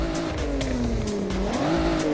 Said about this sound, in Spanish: Se siente fenomenal la aspiración del coche.